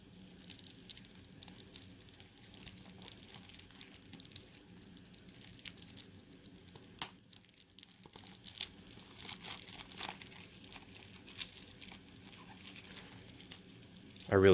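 Plastic shrink wrap crinkles and tears faintly and close by as it is peeled off a Trails to Azure Deluxe Edition game box, with soft, continuous rustling and a few sharper crackles near the end.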